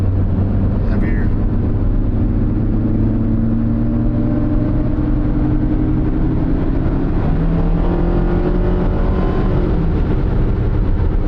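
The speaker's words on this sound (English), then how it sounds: "we'll do a little harder acceleration to see if there's anything noticeable there" Car engine pulling under heavier throttle while driving, a steady loud drone with harmonics rising gradually over several seconds, then easing and climbing again, constant road noise beneath.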